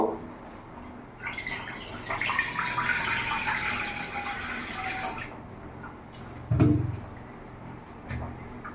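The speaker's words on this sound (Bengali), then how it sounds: "কড়াইতে আমি জল দিয়ে দেবো" Water poured into a kadai (wok) on a gas stove: a steady splashing stream for about four seconds, moderately loud and close, followed by a few clanks and knocks of cookware.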